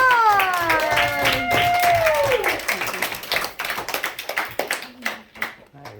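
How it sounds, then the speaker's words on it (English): Applause for a student receiving a responsibility virtue award at a school ceremony, starting under a speaking voice and then continuing alone as close, uneven clapping from a small audience. "Let's give Xavier a round of applause."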